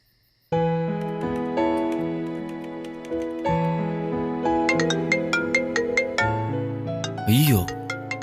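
A mobile phone ringtone plays a bright, repeating electronic melody in a Tamil TV drama scene. It is loud and close and runs steadily for several seconds, ending in a brief warbling sweep.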